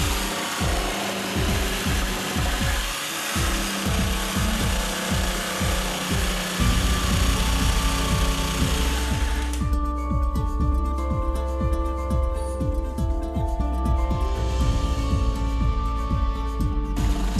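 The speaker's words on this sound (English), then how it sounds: "you will now need to turn the jigsaw in the opposite direction and cut along your guideline" A jigsaw saws through a wooden stile with a fast, rough rasping stroke that runs continuously and loud up close, shifting to a harsher, steadier buzz partway through with no speech.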